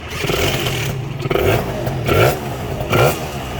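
Kawasaki ZX-25R sport bike with a 48 mm piston and a coiled stainless exhaust idles roughly, then gets several sharp throttle blips, each rising and falling in pitch, loud and close.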